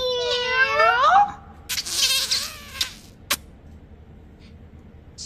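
A preschool piano storytime host uses her voice to imitate a cat, giving one long, swooping meow up front, followed by softer shuffling noises and a brief click.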